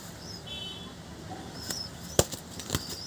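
A few sharp, irregular wing flaps from a high-flying pigeon, close by and snapping out over a quiet background.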